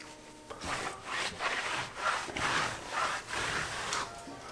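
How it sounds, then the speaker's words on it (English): A towel rubs a freshly cleaned tire dry in about seven rhythmic back-and-forth strokes, a close, rough swishing scrub with no talking. "just drying it off with a towel just to see what other dirt you can pick up"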